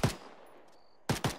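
Gunfire in the Arma 3 military video game: one sharp loud shot with a fading tail, then after a pause two quick shots in succession, close and crisp with no talk.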